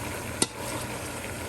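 Steady sizzle of bacon browning in a pot, with one brief sharp clink partway through, no voices.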